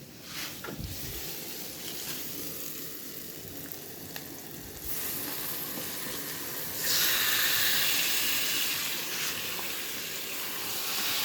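Marinated chicken pieces for a chicken curry hit hot oil in a pan, giving a steady, close sizzle that swells louder partway through and keeps hissing without talk.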